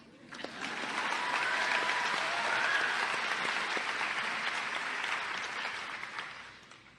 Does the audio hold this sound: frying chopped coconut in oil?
no